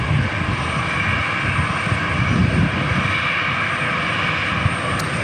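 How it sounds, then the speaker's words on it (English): Air National Guard F-16 fighter jet flying with afterburner at Tucson International Airport, a steady distant roar holding for the whole stretch with no voices. "There's another one of our F-16s."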